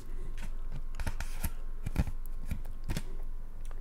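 Paper is folded and creased close up in a quiet ASMR setting, giving soft crinkles and sharper rustling snaps in an uneven rhythm over low background hiss.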